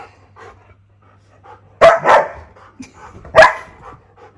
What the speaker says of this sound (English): Speaking of Chew Master, he's being the attack dog